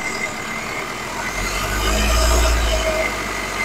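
A car engine idles, then revs into a deep rumbling swell midway through before easing back down.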